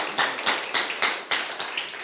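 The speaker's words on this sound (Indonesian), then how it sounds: "Tepuk tangan ini." A church congregation claps in unison during a lively worship service: a steady, even beat of about eight sharp claps, loud and close, with no talking.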